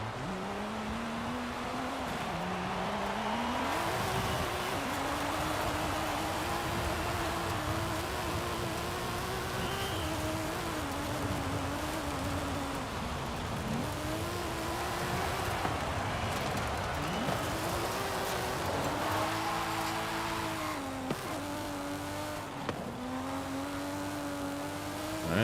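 A car in Forza drives and drifts, its engine droning and rising and falling as it revs through gear changes, loud and continuous with tyre noise underneath, alone without talk.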